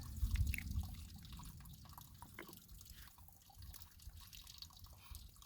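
Water treatment drops fall one by one into a small mixing cap during a backpacking trip in Canyonlands, a few faint, sparse drips in a quiet outdoor setting.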